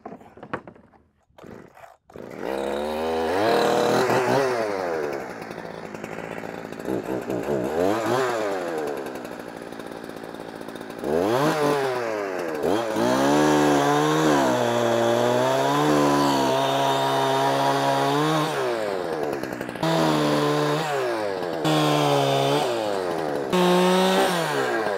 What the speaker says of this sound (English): I'm gonna take the saw and cut some of this stuff into some smaller pieces we can chunk onto there